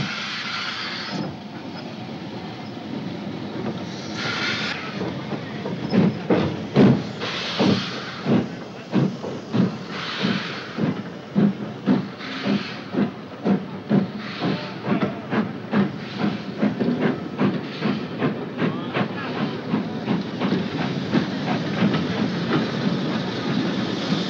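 A Black Five steam locomotive hauls a steam special along Glen Carron in the Scottish Highlands, with steady loud chuffing exhaust beats and rhythmic wheel clatter building as it works along the line.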